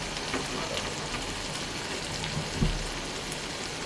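Steady rain hisses down during a storm, an even wash of patter on surfaces with a single louder drip or knock partway through.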